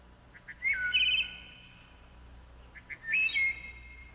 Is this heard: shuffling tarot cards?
no